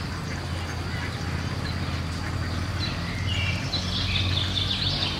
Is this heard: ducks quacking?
yes